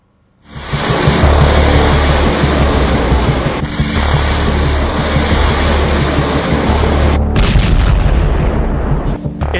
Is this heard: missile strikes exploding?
yes